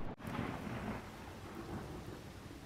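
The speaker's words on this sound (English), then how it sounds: "often seen as a bright bolt followed by a deafening boom" Thunder from a cloud-to-ground lightning strike rolls on as a sustained, loud rumble with rain hissing beneath it, and a brief crack near the start gives way to a steady storm roar.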